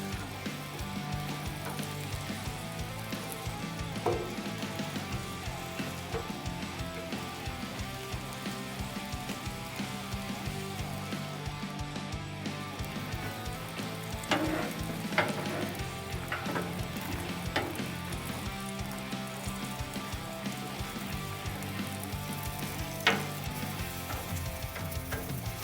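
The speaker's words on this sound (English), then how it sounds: "Let's start grilling our cheese." Cheese grills in a hot pan while making keto Big Mac–style egg rolls, producing a dense, continuous sizzle and crackle up close, broken by occasional sharp clicks and knocks of utensils, with no talk.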